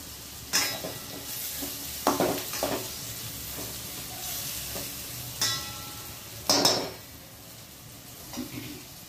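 Cowpeas and chopped onion fry in a pan, a constant soft sizzle broken by several sharp scraping stirs of a spoon against the pan.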